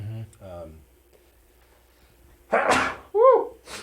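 A single sharp sneeze bursts out close by in a quiet room, with voices talking briefly before and after it.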